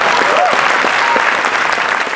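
Dense, steady applause from an audience at a Gujarati literary gathering, loud and continuous throughout without letting up.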